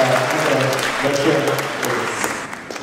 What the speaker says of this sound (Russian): будем вам аплодировать